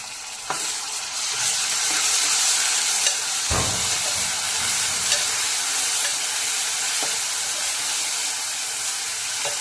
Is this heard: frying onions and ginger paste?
yes